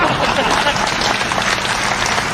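An audience at a speech breaks into dense, continuous applause, loud and close, with a voice briefly mixed into the clapping.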